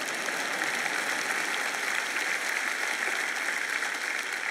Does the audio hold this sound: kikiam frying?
no